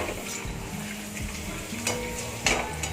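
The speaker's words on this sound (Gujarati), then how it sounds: "આને એકદમ સરસ રીતે તળવાનું છે" Sabudana and potato chakri frying in hot oil, a moderate bubbling sizzle with a few utensil clinks and stirring taps.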